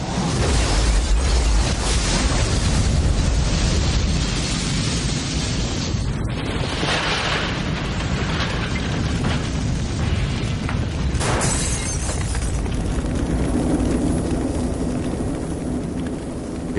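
A lightning-sparked gas explosion at an apartment house gives a long, heavy roar of blast and rumbling fire. The dense broadband noise stays loud and sustained throughout, with sharper cracks around the middle and a slight easing toward the end.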